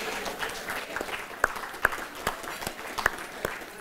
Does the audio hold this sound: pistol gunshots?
no